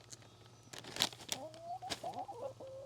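Chickens cluck softly nearby, with short broken calls and a few sharp scratchy noises over a low background hum.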